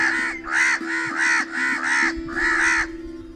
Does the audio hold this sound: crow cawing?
yes